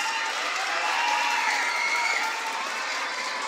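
Crowd of elementary schoolchildren and teachers at a school inauguration applauding loudly, a dense, steady wash of clapping blended with cheering and children's shouts that holds for several seconds.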